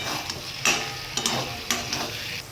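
Soybean curry with potatoes frying and being stirred in a pan, a steady sizzle broken by a few scraping stirs at close range, with no voices.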